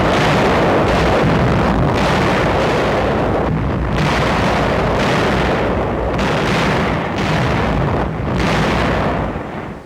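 A 1945 newsreel artillery barrage of 1,400 guns opening Montgomery's February offensive east of Nijmegen: loud, dense, continuous rumbling booms with repeated heavier blasts across the whole stretch, distant and overlapping.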